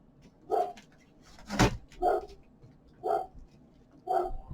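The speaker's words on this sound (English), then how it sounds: "Oh, there's my dog barking." A dog barks four times at a steady pace somewhat in the distance, with a sharp knock between the first two barks.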